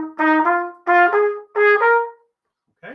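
Trumpet plays three short swung phrases of paired eighth notes, each a bright brassy run, loud and close, with a brief pause and a final note starting at the end.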